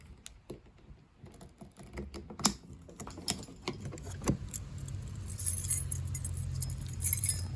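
The emergency key slides out of a BMW X3 key fob: small metallic clicks and jangles, close and sparse, followed by a low steady hum.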